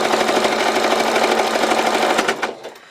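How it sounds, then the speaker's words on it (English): A sewing machine stitches a mini quilt at a steady fast rhythm, loud and close, its rapid mechanical chatter running continuously before slowing and winding down to a stop at the end. "I'm just going to continue stitching"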